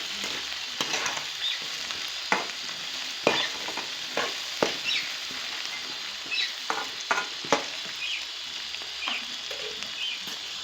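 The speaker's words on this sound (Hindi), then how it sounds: "प्याज हमारे लगभग गोल्डन हो चुके हैं और भी ज़्यादा इसको गोल्डन करने हैं हमें। एंड साथ ही हमारे आलू भी फ्राई हो रहे हैं" Onions and potatoes fry together in oil for fish curry, with a continuous crackling sizzle and repeated clinks and scrapes of a spatula stirring the pan.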